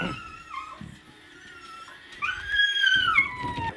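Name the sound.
dog whining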